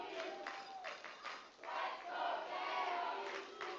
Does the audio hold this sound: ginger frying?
no